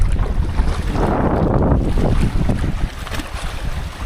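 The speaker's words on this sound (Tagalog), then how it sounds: "Ayun, lumalakas na yung alon ayan lumalakas na yung alon oh." Waves on the reservoir at the old town of Pantabangan, Pantabangan Dam, building in strength as a continuous wash of water with heavy wind buffeting the microphone, loud and close throughout.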